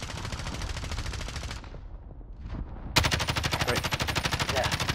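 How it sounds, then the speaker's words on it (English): Automatic gunfire in a battle royale video game, close and loud, with rapid rhythmic bursts. It drops out briefly, then resumes as a steady stream of shots. "I hear someone shooting."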